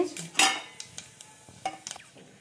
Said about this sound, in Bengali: শুকনো লঙ্কা আর জিরে জিরে ভালো করে একটু নাড়াচাড়া করে নিতে হবে